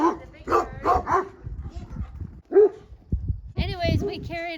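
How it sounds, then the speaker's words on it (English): Livestock guardian dogs at an alpaca farm bark and yip repeatedly at a large bird overhead, mixed with people talking, the barks coming in uneven bursts at moderate distance. "Guardians are gonna bark because above our head is the big bird"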